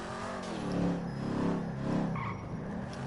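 A Ford Mustang driven in GTA 5, its engine giving a steady, throaty drone with swelling surges as it accelerates, alongside faint tyre scrubbing; no talking.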